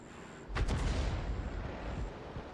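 Artillery shell fired from a 105 leFH18B2 self-propelled gun in World of Tanks: a single deep, booming cannon report that rolls and rumbles for about two seconds before fading.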